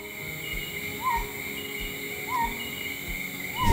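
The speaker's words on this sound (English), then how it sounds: "it makes a short insect-like call that sounds more like a chirping frog than a bird" A small bird endemic to Príncipe Island gives short, chirping, frog-like calls that repeat at a steady rhythm, each one brief, heard alone against a constant buzzing backdrop of insects.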